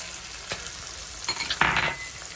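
Surti papdi beans go into a pan of roasted spices for Kathiyawadi undhiyu, with a few utensil clinks and scrapes, then a loud burst of sizzling as they hit the hot oil.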